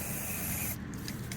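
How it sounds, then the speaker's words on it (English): Aerosol air flow sensor cleaner sprayed onto the sensor of a 2012 Toyota Prius Plus Alpha V, a steady close hiss for most of the clip that cuts off and leaves short faint bursts. "I need just to spray here generously"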